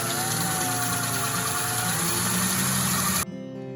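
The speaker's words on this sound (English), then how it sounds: "Now, I screwed it to the back end, and now we have a lathe." An improvised lathe, rigged on the back end of The Pathfinder, spins with a steady, loud mechanical hum and a rising whine. It runs for about three seconds and then cuts off abruptly into near silence. No one speaks.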